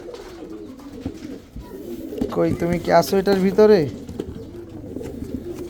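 A female pigeon of the Pakistani teddy breed, with a white crest, coos in a rolling, warbling run of notes close by while a person talks briefly before and around it.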